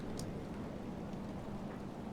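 Steady rain ambience in the video game Dragon Age: Inquisition, a soft continuous patter with occasional brighter drops, faint and even throughout with no talking.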